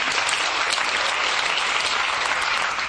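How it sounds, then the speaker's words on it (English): Audience applause for costume designers at a theatre presentation: a continuous, full wash of clapping from a large crowd, even in level throughout. "go and give them a clap."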